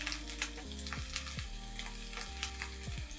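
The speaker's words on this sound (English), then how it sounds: "My oil is hot, so I'm going to add in my meatballs carefully." Meatballs frying in hot oil in a very large pan, a constant crackling sizzle up close with a low steady hum of the stove beneath, quiet and without talking.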